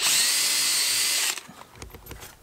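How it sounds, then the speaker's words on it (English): A power drill whines loudly and steadily for just over a second, then cuts off, leaving faint clicks and handling noises. "you drill a bigger hole in the thing you want to screw so that your screw can sit inside it"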